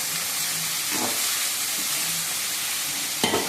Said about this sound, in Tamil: மூடி வதக்கி வதங்கும் வெங்காயம் லைட்டாக வதங்கும்